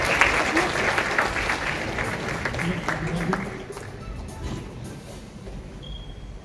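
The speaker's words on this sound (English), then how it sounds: "Please give a round of applause to our winner of this competition." An audience at a cybersecurity and law conference applauds a competition winner with dense steady clapping that is loud at first, then fades over a few seconds, with a voice speaking over it.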